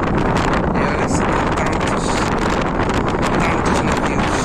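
Very strong wind at a harbour where ships refuel roars and buffets the microphone in a constant, loud rush, with no speech.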